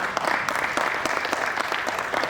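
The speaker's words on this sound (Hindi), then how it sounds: "दर्शकों से अनुरोध है, तालियों की गुनगुनाहट रुकनी नहीं चाहिए।" An audience at a theatre event in Patna claps steadily and fairly loudly after a ceremonial lamp lighting, a dense, continuous patter of many hands with no voices over it.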